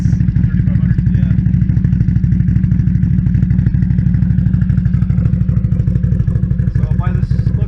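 Motorcycle fitted with an aftermarket exhaust idling high at around 3500 rpm, a steady, loud, close-up rapid thumping pulse that holds even throughout with slight clatter on top.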